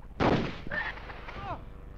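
Weapons fire in the Hogs of War video game, a loud blast at the start followed by a short decaying rumble, with a voice partly over it.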